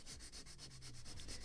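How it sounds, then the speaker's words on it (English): Sandpaper rubs in quick, even back-and-forth strokes along the glued wooden deck edge of a ship model of the 1776 gunboat Philadelphia, faint and close with no talking. "It is much easier to sand when it is already glued and it is completely flat, not moving."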